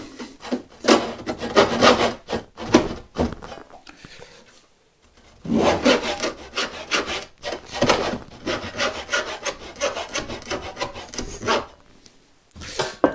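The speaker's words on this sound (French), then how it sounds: "je coupe en tronçonnage, c'est-à-dire, c'est pas fait pour" Hand saw crosscutting a piece of wood against the grain, heard alone as bursts of rough rhythmic rasping strokes, with a clear pause in the middle before sawing resumes, close and fairly loud.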